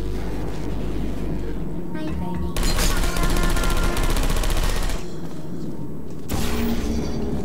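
Turrets fire in Portal 2, a loud stream of rapid automatic shots lasting a few seconds, pausing, then a shorter burst near the end, over constant game ambience.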